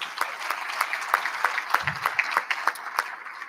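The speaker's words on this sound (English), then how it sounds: "Let's give them a round of applause." A crowd applauds steadily with many overlapping claps, moderately loud, lasting a few seconds, at a hall of fame induction ceremony.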